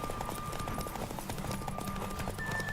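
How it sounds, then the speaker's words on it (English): Horse hooves clip-clop steadily along a road in The Witcher 3, a quick, even rhythm of hoofbeats kept faint and low beneath a game soundscape with a thin sustained tone. "Another random horse on the road, of course."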